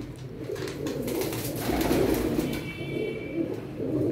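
Pigeons coo softly and repeatedly, low rolling calls close by, with faint background noise and no talking.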